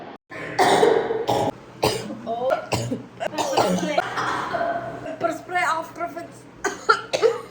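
People cough repeatedly in a room after pepper spray is released, with throat clearing and a little laughter mixed into steady talking over several seconds.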